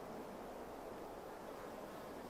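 Steady wind roars and buffets the microphone with constant broadband noise on a hiking trail in Arizona, no other sounds standing out.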